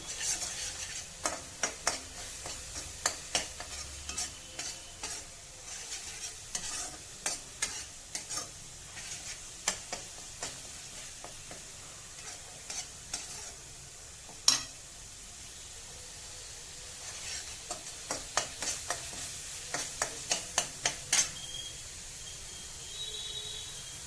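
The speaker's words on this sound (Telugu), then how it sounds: "శుభ్రంగా మనం పచ్చివాసన పోయినంత వరకు శుభ్రంగా మనం వేయించుకోవాలండి" Masala with chili powder is stir-fried in a pan for a hotel-style mushroom curry: a low continuous sizzle runs under frequent irregular spatula taps and scrapes, with bursts of stirring clustered near the start and end.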